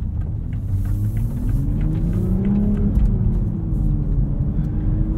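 A 2023 Toyota GR Supra 3.0 with a manual gearbox drives along, its engine giving a steady low, rumbling drone that rises and falls slightly in pitch, heard from inside the car with no talking.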